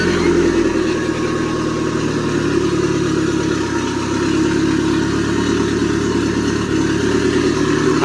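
A Mitsubishi Airtrek Turbo R engine with 85,000 km idles steadily and evenly at moderate loudness, a constant low drone with faint mechanical hum and no break throughout.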